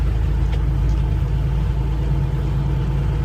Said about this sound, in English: Now we're basically just lugging the engine